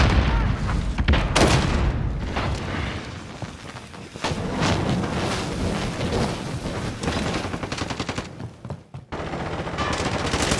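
A frag grenade blows up amid heavy shooting in a first-person shooter game, loud blasts and bursts of rapid gunfire crowding one another, with game voice callouts mixed in.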